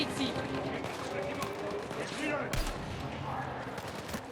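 Gunfire and explosions in the video game Battlefield 6 crackle through a dense, continuous battle mix, with a sharp heavy blast around the middle standing out above the steady din.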